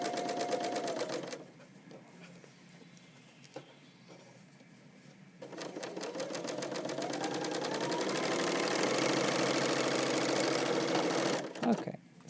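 A sewing machine runs a seam through denim jeans, starting in short bursts with pauses, then speeding into a long, steady, loud whirring rattle before halting near the end.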